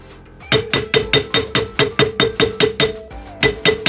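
A ring being tapped with the back of a hammer handle while a stone is set, about a dozen sharp metallic knocks at a steady quick rhythm, close and clear, with a brief pause before the last few.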